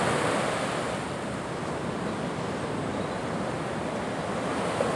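Ocean waves wash continuously onto the shore, a dense, steady hiss and rumble of surf that holds an even level with no voices.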